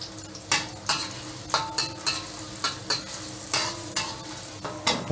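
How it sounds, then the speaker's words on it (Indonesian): Shallots and garlic sizzle in cooking oil while being stir-fried, with a steady frying hiss and repeated scraping strokes of a utensil against the pan. "Kita tumis sampai keluar bau wangi, bau khas bawang ya."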